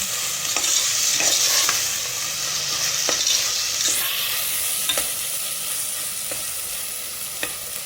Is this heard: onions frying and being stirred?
yes